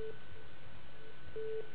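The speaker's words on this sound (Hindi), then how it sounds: "लगता फोन कट गया।" Telephone line tones after a call cuts off during a TV talk show, faint repeated beeps over a low line hum.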